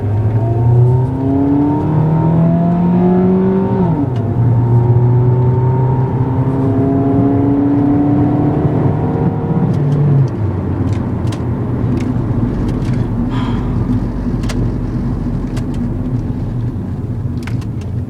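A 2003 Suzuki Aero with a 35 hp engine drives and accelerates on a road test drive, its engine note climbing through repeated rising revs and gear shifts, loud and close from the exhaust, steady throughout.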